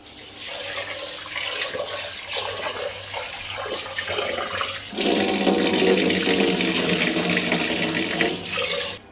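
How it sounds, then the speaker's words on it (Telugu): Yellow moong dal is washed under running tap water in a clay pot, a close continuous stream that grows louder and fuller halfway through, with no voices. "సో పప్పు కడిగేసుకున్నానండి"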